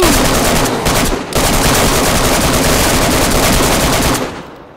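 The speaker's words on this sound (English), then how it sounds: "It's really scary shooting towards you" Gunfire in DayZ on PS5, a loud, dense stream of rapid automatic shots close by, briefly pausing once before continuing and then cutting off near the end, with no voices over it.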